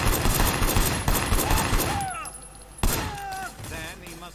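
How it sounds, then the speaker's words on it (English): Gunfire in the video game Sleeping Dogs: a dense, loud barrage of rapid shots for about two seconds, then quieter scattered shots and ringing game effects. "Shooting at the guys over there."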